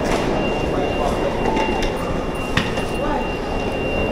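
A London Underground Piccadilly line train rumbles steadily through the station at Heathrow Airport, a continuous close, loud roar with faint rail clatter and a thin high tone over it.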